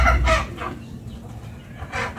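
Goliath chickens, a large meat breed, clucking with a rooster crowing, several bursts of fowl calls close by over low rumbling background.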